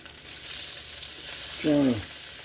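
Salmon cakes fry in hot grease in a pan, giving a steady, close sizzling hiss throughout, with a brief voice sound breaking in near the end.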